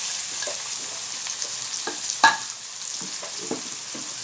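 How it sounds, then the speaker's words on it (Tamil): Four onions fry in well-heated oil in a pan, giving a steady close sizzle broken by soft scraping stir strokes and one sharper clatter midway. "இப்போ எண்ணெய் நல்லா சூடாயிடுச்சு, வெங்காயம் போட்டுக்கலாம்."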